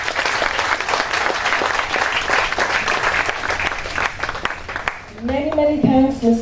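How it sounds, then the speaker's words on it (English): Audience applause at a tango festival evening in a New Delhi hotel: sustained, dense clapping from a crowd that fades after about five seconds, then a voice speaks. "I think we need a big round of applause for them."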